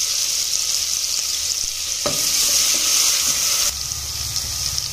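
Garlic dropped into a hot tempering of mustard seeds and cumin, a loud continuous frying hiss that sharpens with a crackling burst midway and stays close and steady throughout, with no talking.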